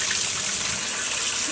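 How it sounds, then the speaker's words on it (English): Cool running water pours steadily close by while dyed yarn is rinsed with dish soap, a continuous gushing flow with nothing else over it. "I'm using just some Dawn dish soap and cool water to help rinse out any extra"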